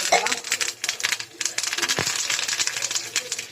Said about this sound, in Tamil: இப்போ ஒரு கொத்து கருவேப்பிலை போட்டுக்கலாம்.